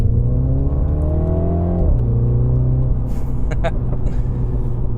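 A Mini John Cooper Works with an automatic gearbox pulls hard, its engine note climbing loud and close before a gear change drops the pitch, then droning on steadily, with a few faint higher sounds near the end.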